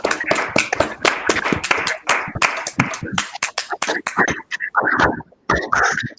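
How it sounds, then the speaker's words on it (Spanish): A small lecture audience claps after a talk on minimal surfaces, bursts of hand claps that start dense and thin out into scattered, uneven claps, with faint voices alongside. "por mi parte solamente queda que aplaudirte"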